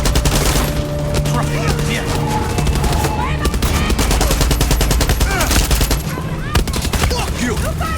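Dense, rapid gunfire from a Far Cry 6 firefight fills the scene, with continuous automatic bursts and overlapping shots, loud and close, while voices shout over the din.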